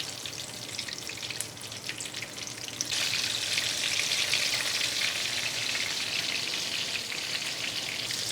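Peri bites fry in a pan over medium heat, giving a steady crackling sizzle that suddenly grows louder and brighter partway through and then continues evenly.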